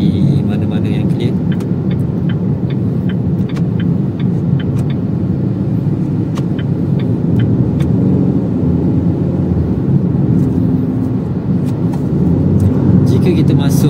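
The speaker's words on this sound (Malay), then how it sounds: "Saya try lajakkan sikit kereta ni di mana-mana yang clear." A Proton Saga 1.5 automatic accelerates along a road, heard from inside the cabin as a steady low engine drone with road rumble, continuous for the whole stretch while someone talks over it.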